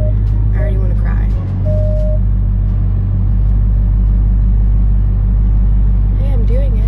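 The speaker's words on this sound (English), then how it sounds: "This car is so freaking loud." Very loud car engine rumbling heavily at close range while driving and reversing, a deep continuous drone with a few rising revs, and a person's voice occasionally heard over it.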